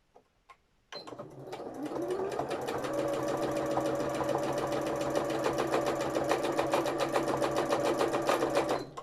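A sewing machine running steadily for free-motion embroidery, stitching stem stitches on felt; a rapid, even mechanical chatter starts after a brief pause and holds close and continuous to the end.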